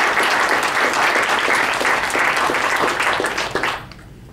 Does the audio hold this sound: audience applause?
yes